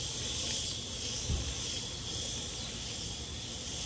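Water spray rinsing cleaning product off an HVAC condenser coil, a steady broadband hiss that stays fairly even and close throughout, with no talking.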